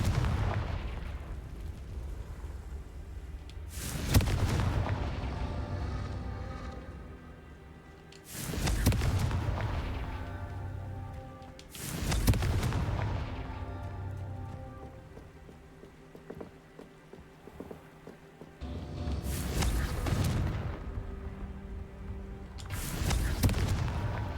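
The Confringo explosion spell from Hogwarts Legacy sounds five times, each a sharp, loud blast with a rumbling decay. The blasts are spaced several seconds apart, with background noise in the gaps.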